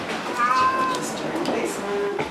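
A big black cat stranded at the ruined World Trade Center site meows in a couple of wavering cries during a rescue, close by with people talking around it.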